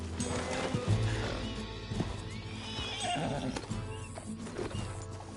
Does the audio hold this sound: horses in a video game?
yes